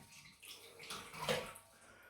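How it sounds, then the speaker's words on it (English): A shaving brush is lifted out of a bowl of water, giving a faint, brief swishing drip and trickle in a quiet room. "Now I'm going to retrieve the brush from the water."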